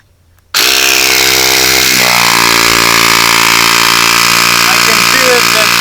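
Small AliExpress air compressor switching on abruptly and running loud and close, a steady buzzing motor hum with a slight pitch drop after a couple of seconds, continuing without pause.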